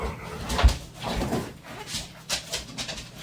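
A pet dog whimpers and pants excitedly indoors, with short irregular whines and scuffling bursts over about three seconds, fairly close and moderately loud, no talking.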